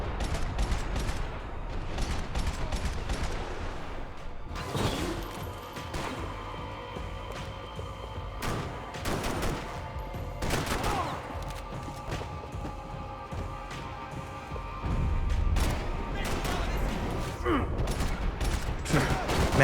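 Gunfire in the Max Payne 3 video game, with repeated sharp bursts of shots scattered through a busy action scene, mixed with mechanical clatter and crashes at steady loudness.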